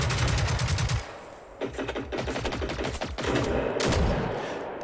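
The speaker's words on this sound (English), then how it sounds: "Put a heap of bullets into him." A .50 cal machine gun in the shooter game Generation Zero fires loud, sustained rapid bursts with brief breaks between them, close and dominant with no speech.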